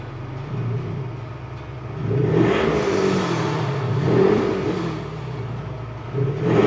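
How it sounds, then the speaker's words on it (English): A Ford Transit MS-RT van's engine revs while parked, rising in a couple of broad swells over a steady idle rumble, close and fairly loud with no talking. "we'll give it a few revs, and then we'll listen to it"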